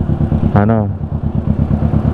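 A big bike motorcycle engine idling close by with a steady, low throbbing pulse, while a voice briefly speaks over it.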